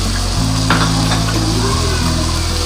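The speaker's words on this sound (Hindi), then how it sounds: "अब इसके साथ ही मैं डाल दूंगी इसमें ये टमाटर का पेस्ट" Tomato paste added to a hot pan with cumin sizzles and fries loudly at close range, a continuous bright crackle over a low steady hum, with no talking.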